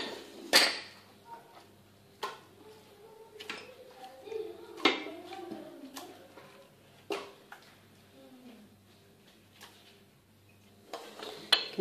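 Chicken pieces go into a cooking pot for Moroccan rice, heard as a series of sharp metallic clanks and knocks of utensils against the pot, spaced irregularly, with a voice talking quietly between them.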